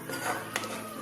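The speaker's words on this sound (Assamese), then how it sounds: "2 পৰা 3 মিনিট মান ধুনীয়াকৈ এইখিনি ভাজি ল'ব" Shahi paneer masala frying in a pan while being stirred: a short, steady sizzle with a brief scraping accent near the middle.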